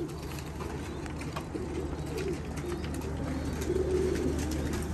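Domestic pigeons on a rooftop coo in a low, steady murmur throughout, fairly close, over a constant background hum.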